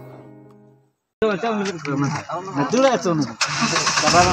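A car engine cranks and catches after a short pause, then revs and settles into a running idle, with people talking over it.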